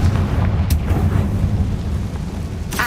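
A Confringo spell explosion in the video game Hogwarts Legacy, a loud, deep, rumbling boom that sustains for a few seconds with a sharp crackle near the end.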